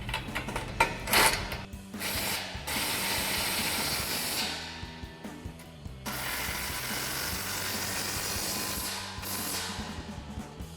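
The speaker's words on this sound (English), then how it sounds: "we're gonna grab our impact with a 17mm socket and a 15mm wrench and tighten them down" An impact wrench with a 17mm socket tightens exhaust bolts on a 2019-2024 RAM 1500 during a dual exhaust install, firing in three rattling bursts of a few seconds each with short pauses between, close and loud, with no talking.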